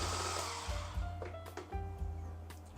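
An electric mixer beats upside-down cake batter that has vegetable oil in it. The whine is close and fairly quiet and shifts in pitch as the beaters dip and lift in short bursts, with no talk.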